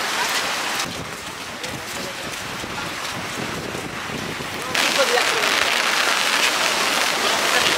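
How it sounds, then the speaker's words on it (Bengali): Heavy rain pours and wind gusts at the seafront at night, a dense, steady roar close to the microphone that swells louder partway through, with buffeting wind noise and no talk. "বেরোনোর পরে ভালোই জোরে বৃষ্টি এসেছে"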